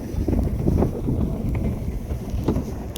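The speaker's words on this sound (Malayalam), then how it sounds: "നല്ല കാറ്റുണ്ട് കേട്ടോ." Strong wind buffets the microphone during a boat ride through mangrove forest, as a loud continuous rumble with no speech.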